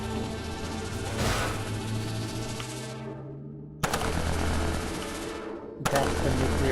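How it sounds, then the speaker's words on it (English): A nuclear explosion in the Cryptark video game: a long, dense roar of blasts and rumbling debris, with a deep tone underneath. It cuts off abruptly near the middle, then returns as renewed loud booming and another sudden hit. "That's the nuclear explosion they were talking about."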